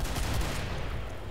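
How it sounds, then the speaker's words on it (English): Dense gunfire and explosive grenade blasts from a chaotic co-op firefight in the video game Killing Floor, a short, loud, continuous burst of overlapping shots and booms that tapers slightly at the end. "Everyone firing and throwing grenades at one."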